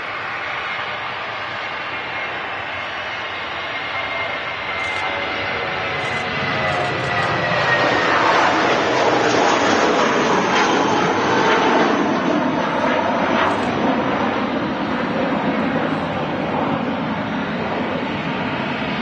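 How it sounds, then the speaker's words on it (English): A loud aircraft rolls down the runway for takeoff at Manchester Airport, its engine roar building steadily and filling the scene as a broad, sustained rumble that swells toward the middle and stays strong. "As the louder aircraft starts to go down the runway."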